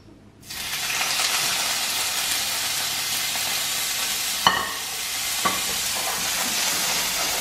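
Shrimp sear in a hot pan with a bright, steady sizzle that starts abruptly and holds loud and even, broken by a couple of sharp scraping clicks from a utensil.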